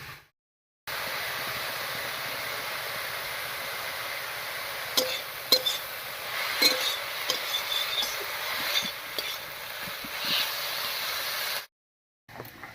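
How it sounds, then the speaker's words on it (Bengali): Chopped banana flower, seasoned with turmeric and salt, fries in a pan with a steady broadband hiss and occasional scraping taps of stirring, framed by brief silence at start and end. "মোচাটা একটু ভাজা ভাজা মতো হতে থাক"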